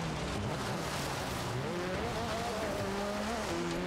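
A small, overpowered race car of around 600 hp in Forza Horizon 3 drones steadily at high revs, its engine pitch climbing and wavering over continuous loud road and tire noise, with no talk.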